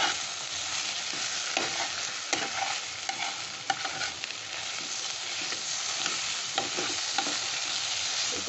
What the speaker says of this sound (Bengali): একটু তেল দিয়ে দিচ্ছি। ভালো করে মিশিয়ে নিচ্ছি এবার।